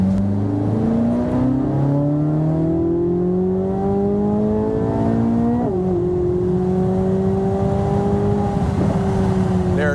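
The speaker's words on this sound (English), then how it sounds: "Just listen to the engine." A Corvette engine drones steadily, its pitch climbing as it accelerates through gears, loud and close from inside the cabin.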